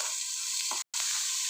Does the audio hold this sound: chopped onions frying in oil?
yes